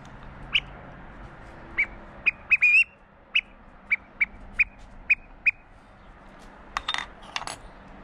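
A flat hunting whistle mimics a thrush call, giving a dozen sharp, high, evenly spaced chirps over several seconds, with a fluttering double note at the end against quiet background hiss.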